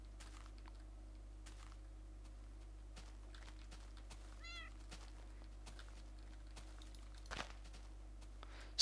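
A video-game cat, an ocelot, lets out a single short, faint meow midway through a quiet stretch broken by scattered soft clicks and taps, with no talking.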